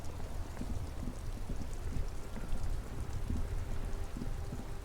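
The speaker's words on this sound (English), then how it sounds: "Oh, it's raining now." Rain falls in the video game Disco Elysium, a steady close patter of drops on hard surfaces that holds at a moderate level the whole time, with no voices over it.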